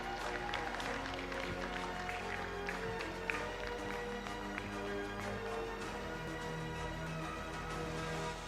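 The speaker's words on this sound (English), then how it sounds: "Big round of applause" Faint applause from an audience at a medical college graduation day as award recipients are honored, steady distant clapping beneath a constant hum and soft crowd murmur.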